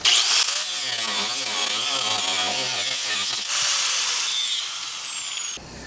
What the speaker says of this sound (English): I'll take my grinder and I'll smooth that down and round off that edge so nobody gets cut